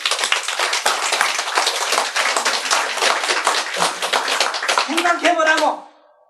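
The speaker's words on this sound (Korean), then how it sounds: "박수!" Dense, continuous audience applause at a Buddhist dharma talk fills the clip at steady volume, then cuts off sharply near the end as a single voice begins.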